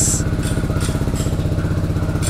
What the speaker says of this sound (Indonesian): Knalpotnya by the way udah ganti Akrapovic ya, Akrapovic full system nih ya teman-teman